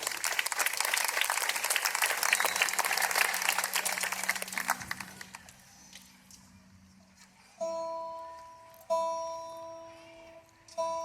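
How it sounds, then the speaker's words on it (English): An audience at a city band concert claps loudly for several seconds, then the applause fades out and is followed by quieter sustained tones. "Aaron, stand up, Aaron. Aaron, right here. Give Aaron a big round of applause."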